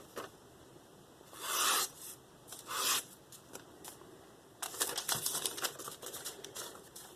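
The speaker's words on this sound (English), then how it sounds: "you can really hear it when you're cutting paper" A sharpened Tojiro DP 210mm VG10 gyuto kitchen knife slices through paper in short, faint, crisp rasping strokes, a few separate cuts and then a quick run of several, very quiet and close.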